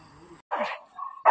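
A dog gives short yips and barks mixed with a brief whimper, close and fairly loud, in separate bursts with gaps of quiet between them.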